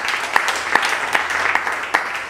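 Audience applause at a presentation event, a modest spread of claps with a few sharper individual hand-claps standing out, continuing steadily for a couple of seconds.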